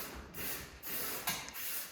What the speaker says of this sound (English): just as Jake is popping on some of the spray paint